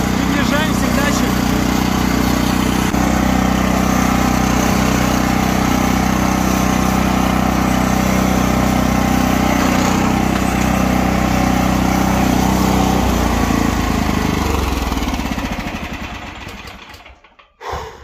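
A Neva walk-behind tractor's engine runs steadily at close range while driving slowly along a road, a loud continuous drone that holds level before fading out near the end.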